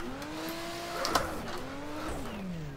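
A race car in the rFactor racing game revs its engine, a nasal tone climbing and falling through gear changes with a brief tire-squeal burst in the middle, steady and moderately loud.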